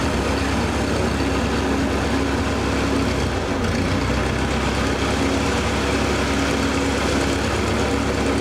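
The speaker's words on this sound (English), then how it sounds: "This will be interesting with the lawnmower starting up to see what that's like." A lawnmower engine runs steadily and loudly close by outdoors, a continuous rough low rumble that holds without pause for the whole stretch.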